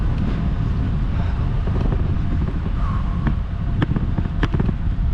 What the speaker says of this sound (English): Quite a stiff wind.